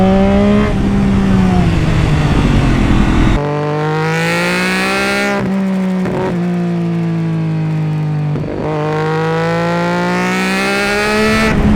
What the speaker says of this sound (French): Cette moto est vraiment faite pour bouffer de la courbe